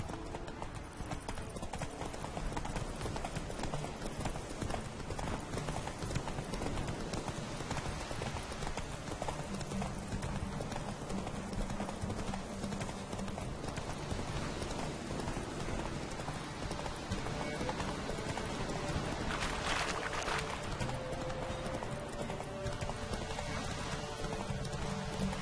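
Roach the horse galloping in The Witcher 3, steady rhythmic clip-clop of hooves running continuously over a dense background of rain-like ambience and game sound, with no talking.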